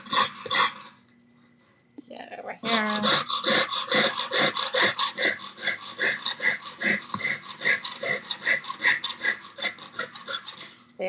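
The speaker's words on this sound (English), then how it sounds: "I hate, for some reason, clockwise sawing." A hand saw rasps steadily back and forth through metal during enamel work, in quick repeated strokes after a short pause, with a dog panting nearby and a brief spoken line.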